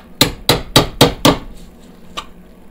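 A hammer strikes a wood chisel in five sharp, evenly spaced blows in a workshop, close and loud, followed by a pause and one fainter tap.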